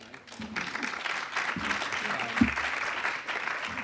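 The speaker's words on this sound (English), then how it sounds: "Give a great big round of applause to Julie." Audience applause for a presenter at a school financial aid night, a steady wash of many hands clapping at moderate loudness, with a few voices faintly underneath.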